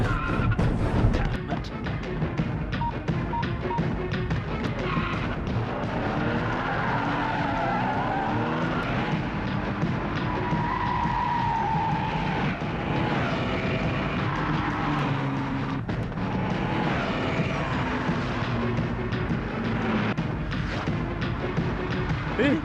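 In an action-movie kidnapping scene, a car speeds away with tires skidding and squealing, a loud continuous roar of engine and screeching rubber sustained over about twenty seconds with shifting pitch sweeps.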